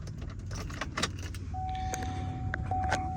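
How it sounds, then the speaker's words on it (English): A car's ignition key being turned off and back to the on position, close keychain jangling and clicks, then a steady electronic chime tone over a low idle-like hum. "I'm going to go ahead and turn the vehicle off and then turn the key back to the on position"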